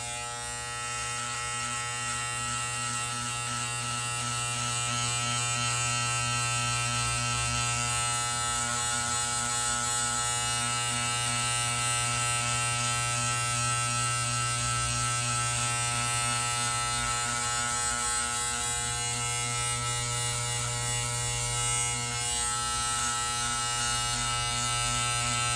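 A BaBylissPRO GOLDFX outlining trimmer runs steadily and close by, giving a constant bright electric buzz that never breaks, with no talking over it.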